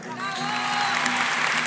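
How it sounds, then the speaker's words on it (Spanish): A live arena crowd applauds and cheers for a contestant on a comedy show, brief dense clapping with a few whoops rising over a sustained tone. "Aplausos para él."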